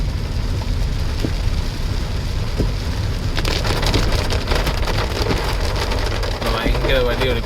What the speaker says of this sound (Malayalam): ഇവിടെ ഇങ്ങോട്ട് വന്നപ്പോൾ മഴ കുറച്ച് കുറഞ്ഞു